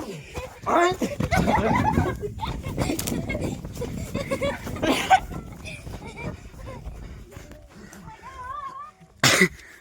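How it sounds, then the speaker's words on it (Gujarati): Dogs kept and fed at a Hanuman temple bark and yip in short bursts amid chatter, coughing and children's voices nearby. "અહીંયા બાપુએ ડોગી પાડેલા છે, એમને ખવડાવે છે"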